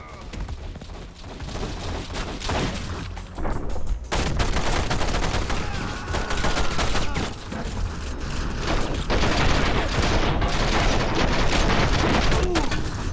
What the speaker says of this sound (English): Hurry, Neo! We're under fire!